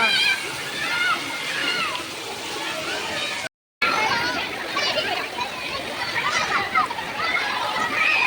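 Water splashing at a suburban water park in Kolhapur, continuous sloshing and splatter with excited voices and children's shouts throughout, briefly cut out midway.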